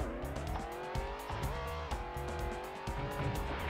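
A car races in a PS1 racing video game, its engine droning steadily with rising and falling revs and rapid rhythmic ticking, loud and continuous with no talking.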